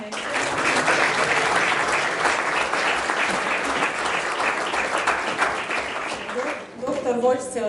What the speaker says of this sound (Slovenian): Še enkrat lahko zaploskamo